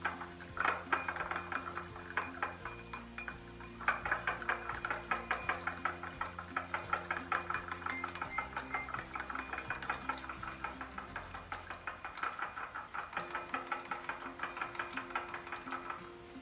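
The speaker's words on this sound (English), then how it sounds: "Keep stirring the beeswax here. Beeswax takes a little bit longer to melt." Beeswax melting for a lip balm is stirred continuously, a rapid, regular tapping and scraping of a utensil against the container, faint and steady beneath background music.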